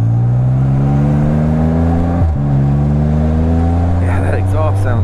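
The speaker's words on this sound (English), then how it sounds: "that exhaust sounds really nice" A 2014 Can-Am Spyder RT-S three-wheeler's exhaust drones steadily up through the revs while under way, loud and close, with a brief dip as it shifts partway through and some faint wind noise near the end.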